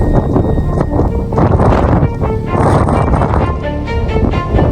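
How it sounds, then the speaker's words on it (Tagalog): Loud, constant wind roars and buffets the microphone in heavy gusts high on a mountain peak, with no other sounds clearly standing out. "Malakas na ng hangin dito sa taas."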